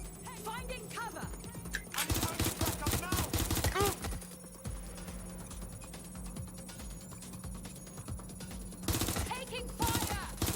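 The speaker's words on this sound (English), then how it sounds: "Taking fire. They're shooting." Gunfire in the video game Watch Dogs: Legion, with bursts of rapid automatic shots at the start and again near the end, set among game voices and other in-game effects.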